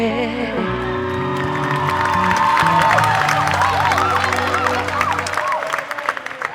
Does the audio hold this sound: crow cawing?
no